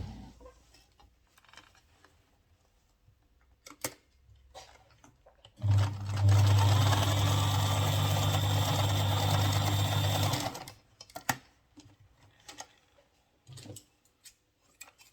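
A sewing machine stitches a trouser seam in one loud continuous burst of rapid mechanical whirring lasting about five seconds, framed by quieter handling clicks and fabric rustles before and after.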